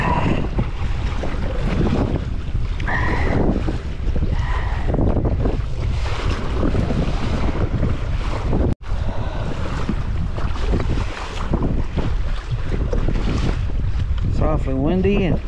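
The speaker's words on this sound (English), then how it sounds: "It's awfully windy and big choppy waves." Strong wind buffets the microphone while choppy waves slap and splash around a kayak on a lake, a continuous loud rushing wash, with someone speaking briefly.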